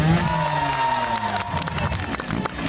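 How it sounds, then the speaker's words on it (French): Crowd at a motorcycle trial show cheering and applauding, shouts and whoops over scattered clapping, with an engine tone fading early on and the noise growing busier toward the end. "Et si ça marche, je veux des applaudissements."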